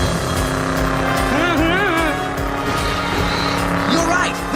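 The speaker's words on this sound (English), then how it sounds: "It's the talking car." Cartoon car in a Transformers animated episode driving with squealing tires, engine noise steady and loud while voices talk over it.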